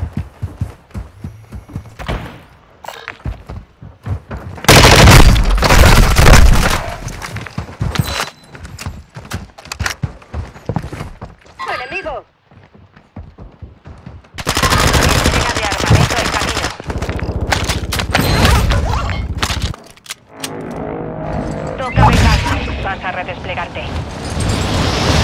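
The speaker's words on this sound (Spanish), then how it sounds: "¡Disparando!" Call of Duty Warzone night combat: rapid automatic gunfire bursts and booming blasts come in loud, dense waves with brief lulls between, close and intense, with a voice speaking intermittently.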